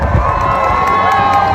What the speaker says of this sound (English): Big round of applause as he comes over the pier.